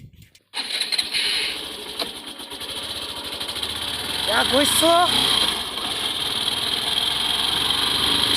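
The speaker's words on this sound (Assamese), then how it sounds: "এতিয়া বাইকত উঠিম আৰু যাম" A motorbike engine starts and settles into a steady idle and running rumble, close by outdoors, with someone speaking briefly over it.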